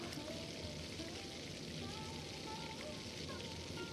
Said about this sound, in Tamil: இப்போ வந்து பார்த்திங்கன்னா மசாலா ஐட்டம்ஸ்லாம் நல்லா ஃப்ரை ஆகிடுச்சு